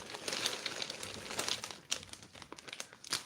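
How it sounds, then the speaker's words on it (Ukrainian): Crinkly rustling of a plastic packet with small loose bits pattering out, steady for a few seconds with a few sharper crackles, close by. "притримуємо і висипаємо вміст пакетику"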